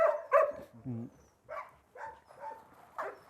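Yakutian Laika hunting dogs bark in kennels, several sharp, loud barks in an irregular sequence close by, with a short whining or yelping burst between them and voices in the background.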